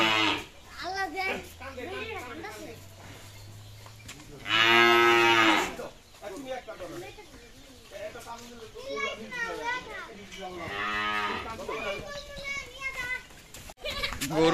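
A Qurbani cow gives several loud, drawn-out moos, one long call in the middle and another near the end, amid excited shouting and children's voices at a rural spot.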